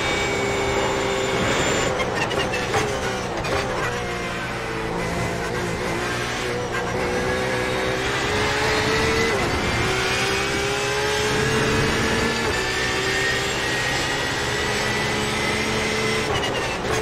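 Porsche 911 RSR race car engine in iRacing at Le Mans, loud and continuous throughout, with rising and falling revs through gear changes and corners, no talk.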